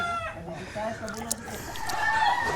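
Chickens clucking and calling in a busy farmyard, with a brief rooster-like cry, mixed with background chatter and ambient noise.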